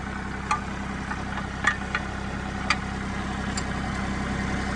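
A Kubota L-series compact tractor engine idles with a steady low diesel rumble, while a few sharp metallic clicks and knocks ring out close by.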